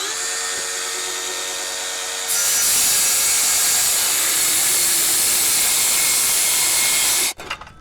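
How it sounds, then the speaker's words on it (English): A circular saw cuts wood for a range hood chimney box. It whines up, then bites into the board with a loud, steady, close-up roar and stops abruptly near the end. "All right, so let's go ahead and cut, and we are going to take our time and cut straight."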